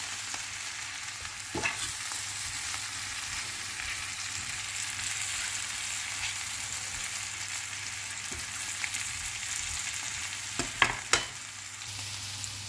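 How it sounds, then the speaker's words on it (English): Vegetables fry in a vegan coconut curry, a steady close sizzle with occasional spoon scrapes and clinks as the pan is stirred. "So you add these and then mix it well to make sure that they also get coated with the curry."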